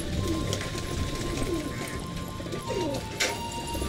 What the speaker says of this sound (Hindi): भूख मान नहीं रहे हैं भाई कबूतर।